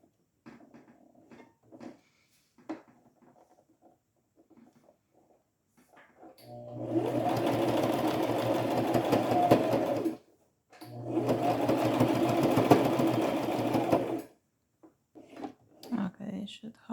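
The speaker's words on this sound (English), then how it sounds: "I will just sew around the edge one time" A sewing machine stitches around the edge of a small fabric key holder in two loud, steady runs separated by a brief pause, with quieter handling clicks before and after.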